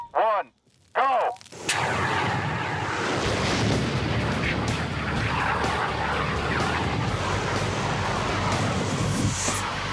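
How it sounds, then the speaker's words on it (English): A standard 15-pound fire extinguisher discharges in a loud, sustained roaring hiss that bursts in suddenly and holds steady for several seconds, preceded by brief voiced countdown tones. "Adam wielding the standard 15-pound fire extinguisher"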